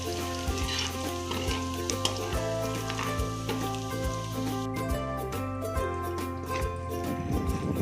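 Garlic sautéing in cooking oil in a pan, a loud, close, steady sizzle and crackle with occasional stirring scrapes, under a low background hum.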